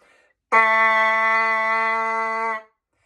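A single low brass note held steady for about two seconds, bright and buzzy with strong harmonics, starting abruptly and stopping cleanly in silence.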